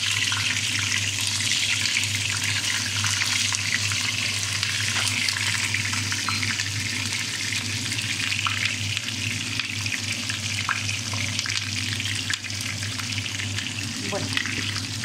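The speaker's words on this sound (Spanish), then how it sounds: "Ahora vamos a freír las alcachofas." Halved artichokes fry in a pan with a constant dense sizzle and crackle that runs evenly from start to finish, with a faint running-water wash mixed in.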